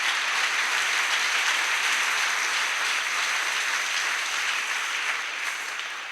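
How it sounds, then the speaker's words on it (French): A church congregation applauds and acclaims the Lord, a steady, dense wash of clapping from a crowd that holds evenly and then tapers slightly toward the end. "Une acclamation au Seigneur, s'il vous plaît."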